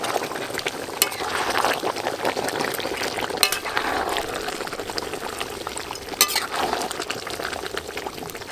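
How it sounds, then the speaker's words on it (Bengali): Goat meat braises in a covered pot and is stirred, a continuous bubbling, frying sizzle with occasional sharp scrapes and knocks from the utensil, moderately close and without speech. "চাপাটা খুলে একবার নেড়ে দেব।"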